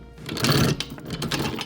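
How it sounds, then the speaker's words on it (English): A yacht's anchor windlass runs as the anchor is dropped in 3 to 5 meters of water, giving a short, close mechanical whirring rattle of chain that lasts under two seconds. "Drop the anchor nicely."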